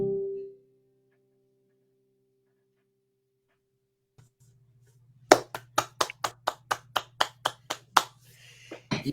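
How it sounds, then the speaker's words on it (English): Around a dozen distinct, evenly spaced handclaps from one or a few people mark the end of a song at a remote folk music show, arriving after a fading tone and a silent pause, with a low hum underneath. "You get the little bookend of applause there"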